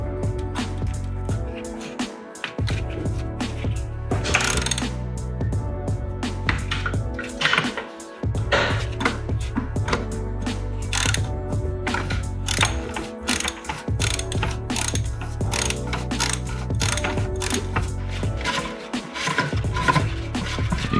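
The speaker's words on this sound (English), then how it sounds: "take your 24mm socket and we're gonna take off the oil filter" A ratchet with a 24mm socket clicks steadily in repeated runs while unscrewing the oil filter housing cap on a Jeep Wrangler JK, each run of rapid pawl ticks broken by short pauses to reset the handle, close and clear with no talking.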